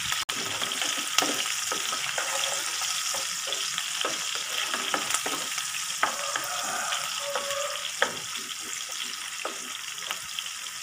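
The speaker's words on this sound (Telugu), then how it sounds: "ఇందులో వేసుకుని ఫ్రై చేసుకోవాలి" Onions lightly frying in a pan for a Telugu dondakaya (ivy gourd) onion-chili dish, a continuous near crackling sizzle punctuated by frequent spatula clicks and stirs, with no talking.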